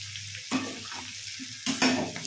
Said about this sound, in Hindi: इसे थोड़ा मैं इस तरह से मसाले चला लूँगी जिससे मसाले भून जाए अच्छे से